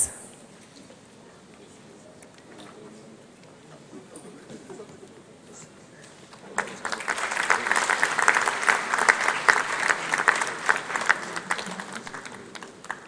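Audience at a KNUST College of Engineering congregation ceremony breaks into applause, starting faintly and swelling into loud, sustained clapping from a large crowd midway through, with a few voices underneath.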